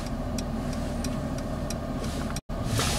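A 2018 Mercedes-Benz S-Class parks itself out of a space, with a low, steady engine and road rumble and faint periodic ticks. A brief dropout comes near the end, followed by a rising hiss.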